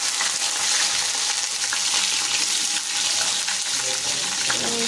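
Cumin, garlic and chili sizzle and fry in hot oil in a home kitchen while dal paratha is being made. The crackling is steady and close throughout, with light stirring and no talk.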